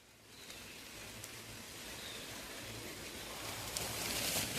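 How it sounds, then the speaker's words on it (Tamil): Rain falls on a farm as a steady, soft hiss of broadband noise that slowly grows a little louder, with faint low rumble underneath and no voices. "மழை வேற பெய்யுது."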